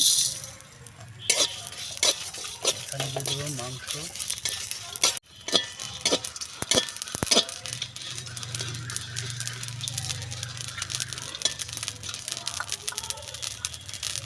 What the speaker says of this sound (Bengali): শুকনো লঙ্কা এলাচ লবঙ্গ দারচিনি এগুলো আমি ভেজে নেব